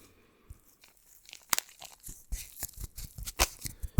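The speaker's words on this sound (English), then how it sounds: "we have these Styrofoam balls" Crisp, irregular crunching and squeaking of Styrofoam balls, starting sparse and growing denser and louder, close up with no talking.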